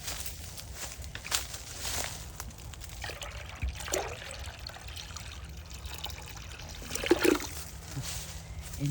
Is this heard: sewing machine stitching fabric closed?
no